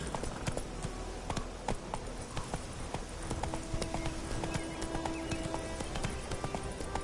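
Roach, a horse in a video game, gallops with a steady, close clip-clop of hooves running continuously throughout over a dense ambient bed, with an occasional faint snort.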